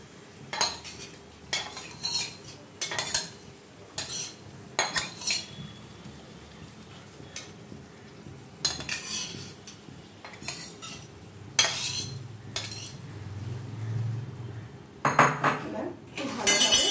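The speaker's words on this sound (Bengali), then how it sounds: "সব মশলাগুলো মিশিয়ে নেব, ভালোভাবে নেড়ে দেবো চিকেনটা।" Marinated chicken is stirred through spices in a wok, with repeated metallic scrapes and clanks of a spatula against the pan in uneven bursts over a low sizzle.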